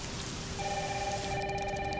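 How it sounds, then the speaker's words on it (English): Heavy rain pours down steadily as a loud, unbroken hiss, and a telephone starts ringing partway through, continuing over the downpour. "It's really coming down hard."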